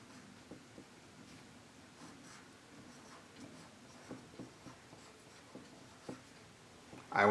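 Pen or pencil writing a name on a kindergarten worksheet, a faint, steady scratch with sparse soft taps and strokes, heard alone, ending in a louder brief rustle.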